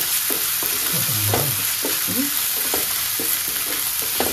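Finely chopped onions sautéing in a pan with a bright constant sizzle, punctuated by stirring scrapes and clinks; a voice speaks one short word in the middle.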